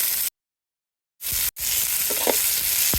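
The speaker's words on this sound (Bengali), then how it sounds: "পেঁয়াজটা কিছু ভেজে নিলাম, দিয়ে দেবো বেগুন" Onion slices frying in a pan over an outdoor clay stove, a steady broadband sizzle broken by a couple of short dropouts, with a soft stir or scrape partway through.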